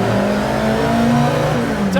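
A Ford Mk1 Twin Cam Escort continuation race car built by Boreham Motorworks revs up close, a loud, steady engine drone with rising and falling tones that holds for about two seconds.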